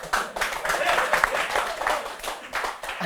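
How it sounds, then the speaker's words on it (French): Audience applauding at a comedy show, a steady wash of many hands clapping at moderate level for several seconds. "Mais vous applaudissez pourquoi?"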